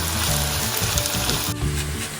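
Onion and potato frying together in hot oil tempered with nigella seeds, a loud, dense, continuous sizzle up close with occasional stirring scrapes.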